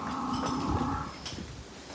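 A deep, drawn-out bellow from a large water buffalo at a livestock fair, loud and near, lasting about a second, then steady outdoor background noise.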